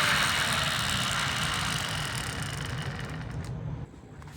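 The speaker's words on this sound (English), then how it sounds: "this is probably the best running of all the steam engines I've fixed for this video" A repaired model steam locomotive running on a track, a steady close motor whir and hiss that fades slightly and drops off sharply near the end.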